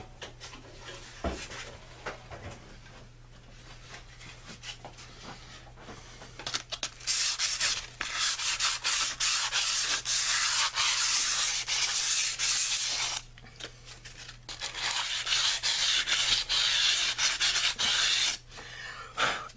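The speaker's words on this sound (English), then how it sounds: "We're going to take a piece of sandpaper and just clean it off just a little bit to make sure that there's no corrosion" Sandpaper scrubbing corrosion off a ring gear mounting surface, close and loud, quick rasping back-and-forth strokes in two long sustained bursts after a few lighter rubs and knocks.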